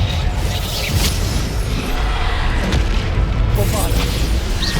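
A Bombarda spell explosion in Hogwarts Legacy, heard as a loud, sustained booming rumble that fills the clip over dense game noise.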